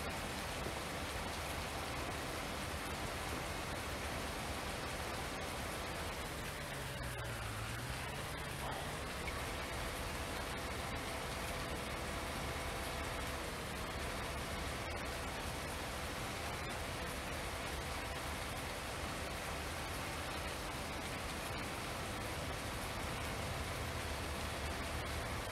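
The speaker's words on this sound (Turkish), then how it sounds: "Gerçi yağmur da bitmiyor." Steady rain from Farming Simulator 19 falls as a constant, even hiss of drops on surfaces, unbroken and moderately loud throughout with no talking over it.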